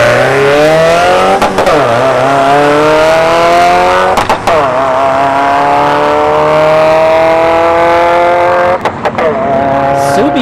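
A Subaru WRX launches at a drag strip, its engine revving hard through several rising gear sweeps with sharp shift breaks, loud and close, punctuated by brief tire chirps.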